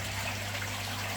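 Water trickles steadily into a bench aquarium, a close, quiet, continuous pour with no voices over it.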